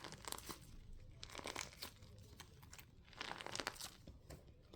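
Crunchy butter slime is squeezed and worked close by, giving repeated crackly, crinkling crunches in bursts, quiet and without talk.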